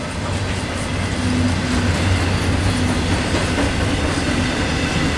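A train rolls past in Cajon, with loud continuous rumble and clickety-clack of railcars, close and steady, no talking.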